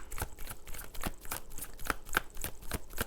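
Tarot cards are shuffled by hand in a rapid, rhythmic run of soft riffling snaps and taps. The sound is close and fairly quiet, with no talking.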